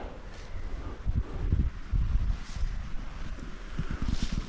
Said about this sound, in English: Basically all you can hear is the wind, and it's quite windy today.